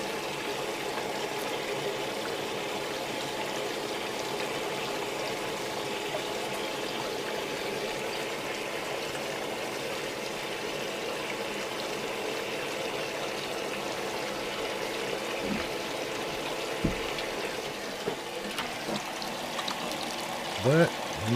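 Water runs steadily over a Hog Mat gold sluice, a constant broadband rush that is heavier along one side, with a few faint knocks near the end and a voice speaking over it.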